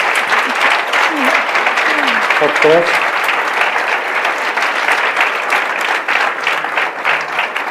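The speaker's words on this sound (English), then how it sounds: "So please, big applause for the author." Steady audience applause for an author at a fantasy literature festival panel, continuous clapping throughout with brief voices over it early on.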